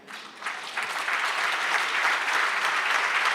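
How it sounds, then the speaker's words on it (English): Audience applause for a high-level panel at the launch of Martha Karua's book "Against The Tide", starting thinly and swelling within half a second into a full, steady round of clapping from a large crowd. "that's not how you clap for such a high-level panel."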